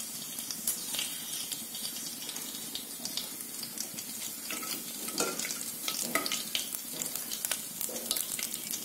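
Cumin and fennel seeds crackle and sizzle steadily in hot oil as the base for a vegetable biryani, with a dense, close frying hiss and scattered sharp pops throughout.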